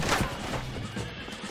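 A horse in Red Dead Redemption whinnies briefly and loudly up close, a short burst of neighing with a hint of hooves.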